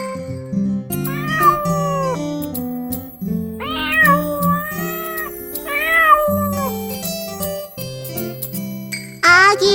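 A cat meows repeatedly in rising, drawn-out cries over bright music with jingling tones, the meows prominent and close.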